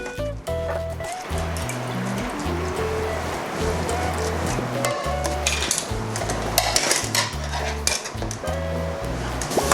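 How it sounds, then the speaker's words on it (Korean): Dried pollack is rinsed in a bowl of water and drained, with sloshing, trickling water and light clinks of a dish, set against steady background music. "이렇게 해서 얼른 씻어 건집니다"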